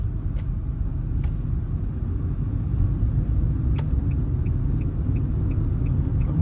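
Steady low car engine rumble at idle to slow speed during a driving test parking manoeuvre, with faint clicks, no talk.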